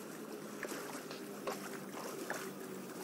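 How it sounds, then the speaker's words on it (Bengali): A ship passes by in the game GTA 4, heard as a faint, soft wash of water and wind with a few light splashes, carrying on without any talk. "যে একটা জাহাজ যাচ্ছে"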